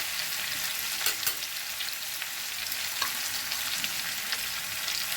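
Onions and chicken fry in a pan with a steady, dense sizzle throughout, close and fairly even, with a couple of faint clicks of stirring.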